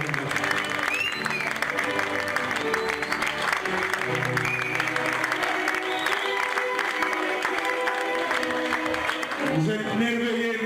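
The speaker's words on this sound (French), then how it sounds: "Sous vos applaudissements." Sustained applause from a wedding reception audience, steady and dense for about ten seconds, with music playing underneath the whole time.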